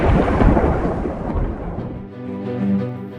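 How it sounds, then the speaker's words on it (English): A thunderstorm with heavy rumbling thunder rolls through and fades into a softer low grumble, with a steady wash of rain underneath and no voices. "It was so stormy."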